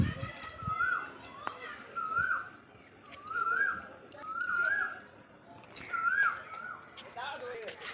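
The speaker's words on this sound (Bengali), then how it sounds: "পাশে একটা কোকিল সমানে ডেকে যাচ্ছে। এই গরমে সাধারণত শোনা যায় না" An Asian koel calls repeatedly from close by in a small kitchen garden on a hot day, its rising whistled notes coming about once a second, with faint background noise and distant voices.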